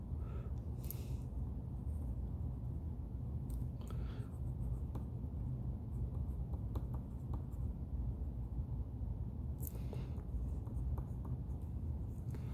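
A marker writes numbers on a board in a classroom-style lesson, producing faint intermittent squeaks and scratchy strokes over a steady low background hum.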